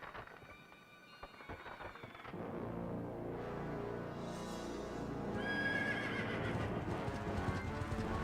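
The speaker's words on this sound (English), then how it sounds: "Whereas Ganon's got this fucking horrifying horse." Ganondorf's horse in Zelda: Twilight Princess whinnies loudly amid clopping hooves and a rumbling stormy backdrop, the neigh rising shrill and strained near the end.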